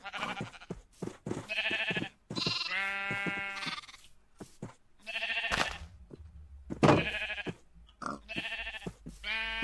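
Sheep in the Minecraft video game bleat repeatedly, several wavering nasal baas from more than one animal overlapping in quick succession, loud and close with short gaps between calls.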